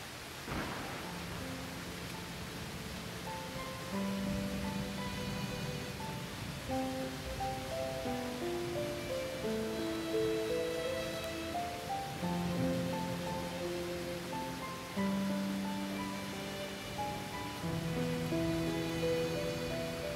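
Heavy rain pours as a steady, even hiss that fills the whole scene, with soft melodic music playing over it and no voices.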